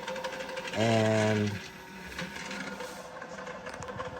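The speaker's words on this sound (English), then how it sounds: "It's one of those Spirit Halloween motors." A small Spirit Halloween prop motor runs briefly, turning a shaft pinned through tubing, a close whirring hum lasting under a second amid light handling noise.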